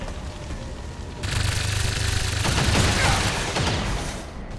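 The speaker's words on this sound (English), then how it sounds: "Taking fire over here!" Dense gunfire erupts in XCOM Long War during a Blacksite mission, a rapid, crackling volley that starts abruptly and rattles on steadily with booming undertones over a low ambient bed.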